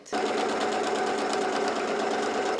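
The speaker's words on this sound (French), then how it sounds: "je vais venir refermer ma couture anglaise en piquant là à 7 mm" A sewing machine runs a French seam at 7 mm on a dress, its motor whirring steadily and evenly, close and loud, for nearly three seconds without a break.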